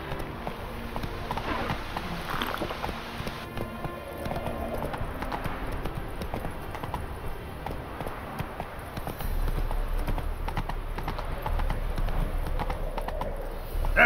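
Roach, a horse in the video game The Witcher 3, gallops with a steady, rhythmic clip-clop of hooves that carries on throughout and grows a little louder near the end, over a constant background bed.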